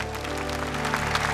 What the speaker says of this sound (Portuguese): Levante bem alto, aplauda o Senhor